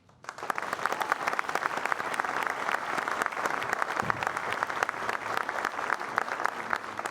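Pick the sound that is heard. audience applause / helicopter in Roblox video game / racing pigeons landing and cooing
audience applause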